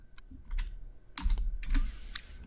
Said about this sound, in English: type in npm install space